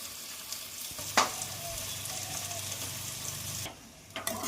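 Ground spices with ginger-garlic paste, salt, turmeric and chilli powder fry in oil while being stirred, a low steady sizzle broken by a sharp scrape of the spoon, with no talking.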